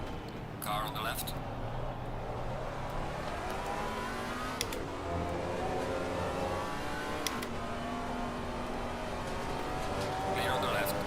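Race cars roar past and engines rev during a Silverstone endurance race in Assetto Corsa Competizione, a steady close engine drone that rises and shifts through gear changes while a spotter voice calls out in the background.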